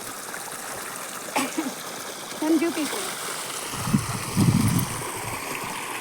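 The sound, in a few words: flowing cool water stream in a farm field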